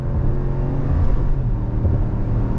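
A 2022 Jeep Wagoneer SUV with an 8-speed automatic pulls hard under throttle, its engine giving a steady, loud low rumble and whir that swells slightly through the middle and holds up to the end.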